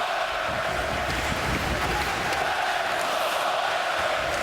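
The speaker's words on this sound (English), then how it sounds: "Let's go Oilers chant up from the crowd" Hockey crowd at an NHL game between the Edmonton Oilers and New York Rangers chants "Let's go Oilers" across the arena, a broad, continuous wash of massed voices that stays steady and fairly loud the whole time.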